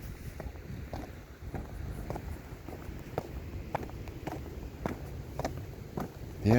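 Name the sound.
breezy wind outdoors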